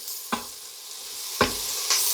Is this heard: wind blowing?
no